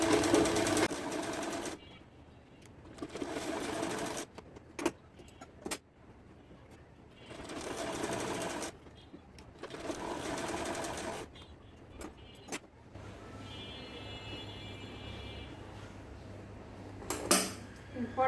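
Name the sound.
sewing machine stitching sides of baby underwear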